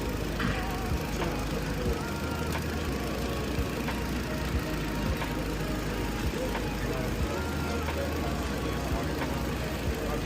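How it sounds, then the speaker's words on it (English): A car engine idles with a steady low rumble throughout, a continuous mechanical hum close by with faint clicks and no pauses. "listen to the engine"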